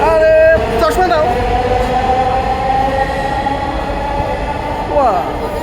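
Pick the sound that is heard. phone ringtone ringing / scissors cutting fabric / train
train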